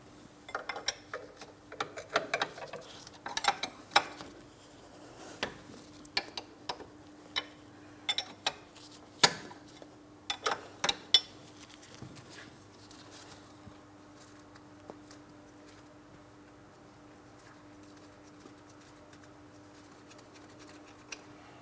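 An 18mm socket and ratchet loosen a front ball joint mounting nut on a 2004-2008 Pontiac Grand Prix, giving irregular sharp clicks and ratcheting ticks, close and fairly quiet, that thin out toward the end.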